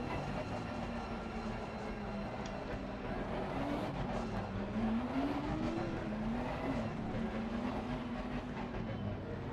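A race car engine in the Assetto Corsa Competizione racing game drones steadily throughout, its pitch rising and falling gently as the car drives, loud and continuous with no talk.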